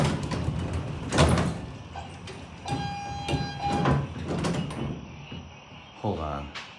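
Hydraulic elevator doors at the Sugar Sands Hotel in Panama City slide open and shut, with clunks and rolling mechanism noise, a short chime tone in the middle, and a person talking intermittently throughout.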